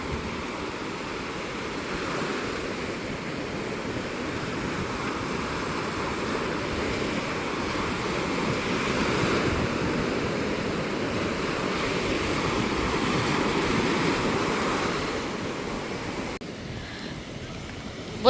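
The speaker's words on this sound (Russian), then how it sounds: "Волны очень сильные." Strong surf pounds a Black Sea beach in high wind, a continuous loud roar of breaking waves with wind buffeting the microphone, the wash swelling and easing over the whole stretch.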